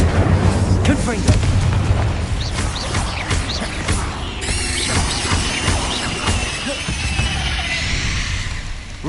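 Spells cast during Hogwarts Legacy play on PS5, with dense booming explosive blasts, crashes and rumbling effects filling the scene loudly and continuously, and a voice speaking in between.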